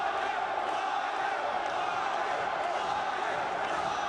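A deafening crowd roars and cheers throughout the main event of a Japanese-style pro wrestling show, a dense, steady wall of voices with shouts rising out of it and no break.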